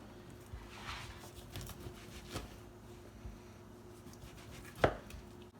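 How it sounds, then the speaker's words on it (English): Knife chopping potatoes on a cutting board for hash browns, a series of faint irregular taps with one sharper, louder chop near the end, close and quiet with no talk. "now when you're cutting your hash browns or potatoes, yeah, we're doing hash browns, so wanna cut it up like this"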